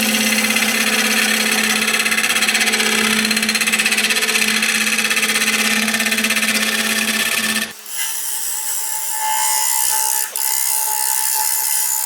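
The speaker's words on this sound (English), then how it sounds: "take a little break here and sharpen this cutter" A machine grinding a woodturning cutter runs with a loud steady whine for several seconds, then the sound changes abruptly to a lighter, thinner hum that continues to the end.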